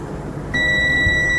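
A milliohm meter's continuity beep sounds as its probes touch a capacitor on a mobile phone circuit board, a steady, loud, close electronic tone that starts partway through and holds to the end.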